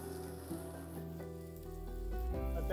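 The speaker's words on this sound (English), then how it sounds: "Let that garlic cook for a moment." Garlic sizzling in olive oil in a pan, a soft continuous sizzle under faint background music, quiet and steady, swelling slightly toward the end.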